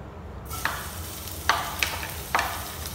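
Hot cooking oil sizzles in a pan, with a soft steady hiss broken by three or four sharp scraping stirs of a utensil, close and without talk.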